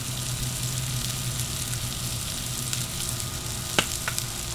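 Onions and mushrooms sizzle on a Blackstone 22-inch griddle, a steady, fairly soft hiss of frying throughout with a couple of small clicks near the end.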